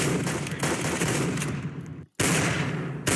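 Gunfire in the CSGO game with hyper-realistic gun sounds, a loud, dense rattle of shots that cuts out briefly and then resumes at the same intensity.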